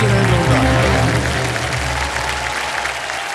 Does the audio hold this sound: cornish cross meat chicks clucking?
no